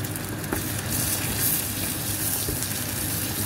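A fried egg sizzles steadily in a pan that it is sticking to, a continuous close crackle with faint scraping and no talking.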